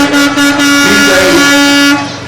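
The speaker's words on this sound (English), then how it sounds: "A little bit of a tow truck convoy here." Tow trucks in a small-town anniversary parade on a cool rainy day blast loud, sustained horns, several overlapping tones held for about two seconds before cutting off.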